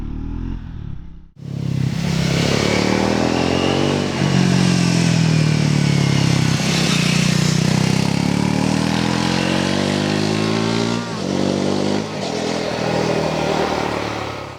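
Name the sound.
Triumph Scrambler 400X motorcycle engine while riding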